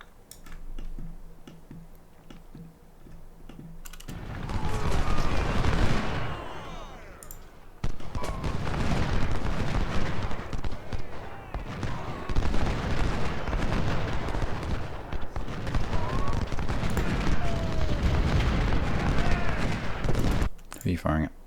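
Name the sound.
gunfire and artillery in the video game Ultimate General: Civil War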